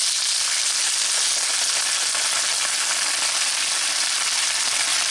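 Onions and peppers sautéing in a hot pan alongside sous vide bratwursts, a loud, continuous broadband sizzle held evenly throughout with no talk.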